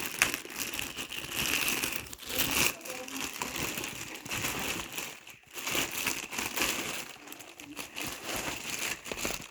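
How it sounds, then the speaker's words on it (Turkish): Plastic wrapping crinkles and crackles loudly and close up as it is pulled off a Winix T800 air purifier filter, a continuous busy rustle with brief pauses. "Poşetinden çıkaralım."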